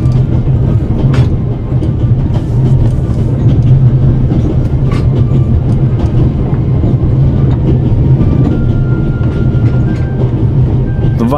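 The Orient Express rolls along in The Raven: Legacy of a Master Thief, giving a steady low rumble with faint clicking from the rails and no speech.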